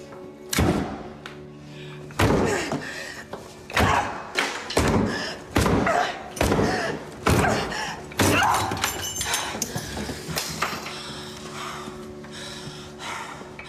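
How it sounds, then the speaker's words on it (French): A door being bashed open: a series of heavy thuds and slams at a steady pace, loud and close, about a dozen blows with short pauses, then fading into quieter scuffling. "Je vais défoncer la porte!"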